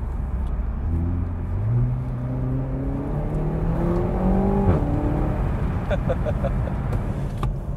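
A Renault Megane RS 300 engine revs and pulls hard while driving, rising through the gears with a steady, loud drone close to the microphone, and a couple of short pops near the end.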